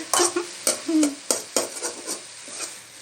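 Mint leaves are sautéed in a pan for a pudhina thovayal, with a spatula stirring and knocking against the metal in short, uneven strokes. A faint sizzle sits underneath, close and fairly loud.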